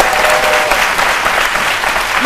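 Dense, steady studio audience applause from a French midday TV talk show set, loud and continuous throughout with a broad wash of many hands clapping.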